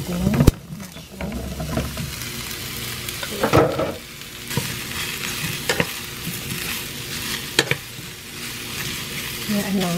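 Mushrooms fry in hot oil in a pan, a loud continuous sizzle with a few sharp clinks and scrapes of stirring, while a person talks in the background.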